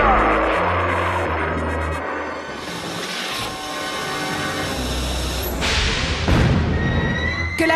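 A cartoon compressed-air rocket lifts off in a loud, continuous roaring rush with a rumbling low end and shifting hiss. The roar swells in bursts toward the end and fills the whole stretch.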